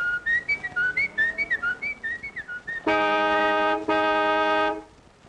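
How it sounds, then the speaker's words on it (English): A man whistles a few notes of the reveille bugle call, first a short loose melodic run, then two long steady piercing tones, close and alone with no other sound. "just blow a few notes of reveille"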